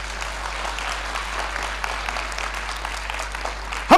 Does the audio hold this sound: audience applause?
yes